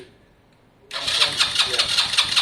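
A Lexmoto Valiant motorcycle engine cranks over fast on a start-up attempt, with a rapid pulsing rhythm beginning abruptly after a near-silent second and continuing loudly and close up.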